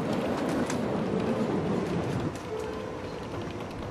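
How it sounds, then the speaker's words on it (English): A train pulls into a station in the city-building game Cities: Skylines, producing a dense, continuous rolling rumble and clatter that eases slightly toward the end. "got our first train showing up here"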